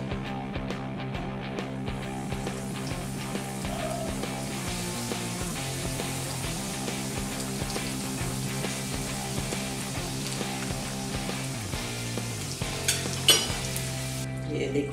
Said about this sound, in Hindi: इस तरह से हमने सभी समोसों को फ्राई कर लिया है